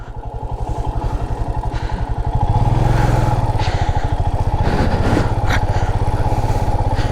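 A motorcycle rides a rough, congested off-road route in Ladakh, its engine thumping loudly close up, revving harder partway through, with clatter from the bumpy ground.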